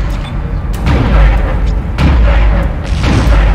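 A cannon fires in the video game Dead Space, heavy booming shots with a deep low rumble, two or three blasts in quick sequence, loud and close, with no talking over them.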